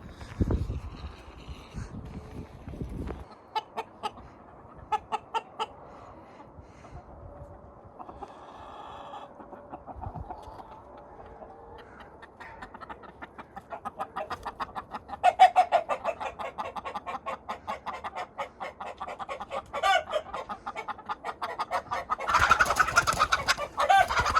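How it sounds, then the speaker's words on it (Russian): Chickens cluck and squawk in scattered bursts, growing busier and louder toward the end, with a few sharper bird calls mixed in. "тут птички шумят"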